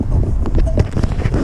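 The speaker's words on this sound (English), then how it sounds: "Windy ass day." Loud wind buffets the microphone, a constant low rumble and roar filling the recording with no clear voices.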